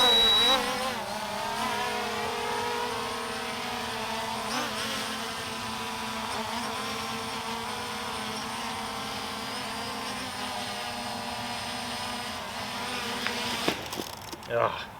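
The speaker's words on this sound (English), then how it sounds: "This is a fun drone to fly." A Ruko U11 Pro drone hovering about a metre away, its rotors giving a steady, loud buzzing whine that holds level for most of the stretch before a few bumps near the end.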